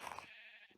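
Minecraft sheep bleat in two or three quick wavering bursts at the start, followed by a near-silent gap and one more short bleat at the end, close and fairly quiet.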